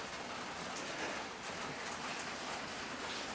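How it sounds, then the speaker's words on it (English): Steady, dense rain falls close by as an even wash of hiss and patter that fills the whole stretch without pause or voices. "it's still raining"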